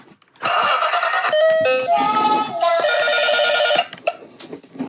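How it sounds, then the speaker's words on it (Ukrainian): Old-fashioned toy telephone ringing, loud and near: a bright electronic bell tone with a short stepped jingle of changing pitches lasting about three seconds before stopping. "Тут ще такий е, старинний телефон."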